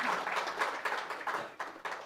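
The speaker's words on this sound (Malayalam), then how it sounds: "ഒരു ആരാധിക ആരെങ്കിലും ഒന്ന് വന്നേ, ഒരു കൈയടി കൊടുത്തേ" A live stage-event audience claps for actor Kunchacko Boban, a dense crackle of applause swelling and fading in uneven waves that stays fairly close and lively over about two seconds.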